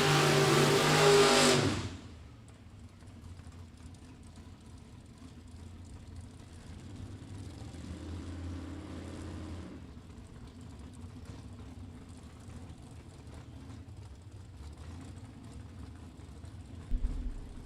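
Brew City Gasser drag race cars, including a '57 Chevy with a 350 and four-speed, rev their engines at a dragstrip; a loud burst opens, then a steady rumble of idling and revving engines carries on at medium distance.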